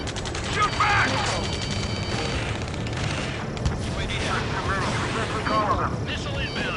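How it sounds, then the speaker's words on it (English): Battle in the video game Ace Combat 7, with a dense barrage of gunfire, booming artillery and machinery noise filling the mix, while shouted radio-style voices call out over the combat throughout. "Return fire! Sierra 2, hold position! We're cut off! Taking fire! We're pinned down!"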